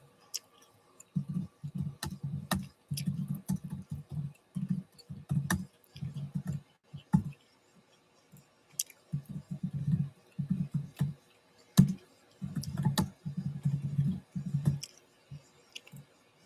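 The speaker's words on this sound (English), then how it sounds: "I'm typing some talking points." Typing on a computer keyboard: close, quiet bursts of rapid key clicks in several runs separated by short pauses, with a few sharper isolated taps, and no voices.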